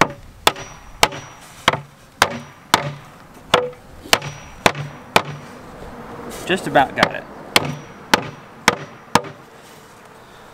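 Steady, evenly spaced knocks pound parts into a polystyrene beehive box, about a dozen sharp blows with a short burst of rapid taps midway and a brief spoken remark.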